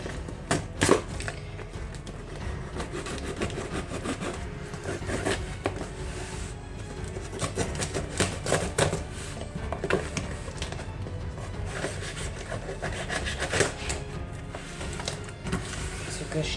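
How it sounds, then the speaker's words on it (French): A small cardboard box holding resin is torn and pulled open by hand, with a dense run of rustling, scraping and crinkling cardboard noises close by over about sixteen seconds. "je vais ouvrir mon petit carton"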